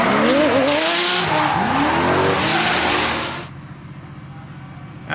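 Drift car tires squeal loudly at a European drifting event, pitch sliding up and down with engine roar for about three and a half seconds before fading to a quieter background.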